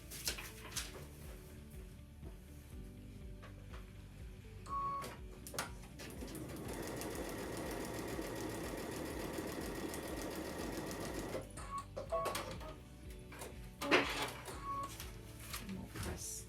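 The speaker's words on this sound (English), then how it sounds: "I'm going to sew on line number 1" A sewing machine stitches two glued fabric sides together in one fairly quiet, steady run near the middle, with scattered handling clicks before and after.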